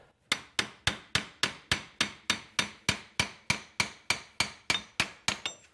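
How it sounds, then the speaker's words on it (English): Hammer tapping steadily on a CV axle of a 2002-2007 Jeep Liberty during front driver-side axle seal work, about fifteen sharp, evenly spaced metallic knocks, close and loud with no talk. "I'm gonna tap on our CV axle."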